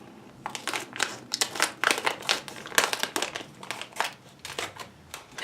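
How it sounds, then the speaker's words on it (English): A plastic package bag from a Tokyo Kawaii Club snack box crinkles loudly up close as it is handled and cut open with scissors, producing irregular crackling bursts in quick succession. "let me grab a pair of scissors because I think I'm going to actually have to cut this open"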